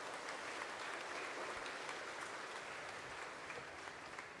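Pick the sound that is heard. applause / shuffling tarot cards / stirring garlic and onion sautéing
applause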